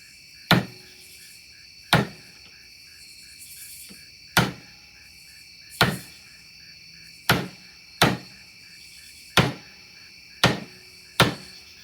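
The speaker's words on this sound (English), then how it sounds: "And there's a nail hammered into a board using a banana." A frozen banana hammers a nail into a wooden board in nine sharp, hard knocks at irregular intervals, each sounding alone over steady insect chirping in the background.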